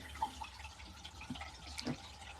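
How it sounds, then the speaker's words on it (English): Water drains out of an LG ThinQ MEGA Ultimate washing machine as a quiet, steady trickle with a few faint drips, heard alone and from close by. "we are draining the water out"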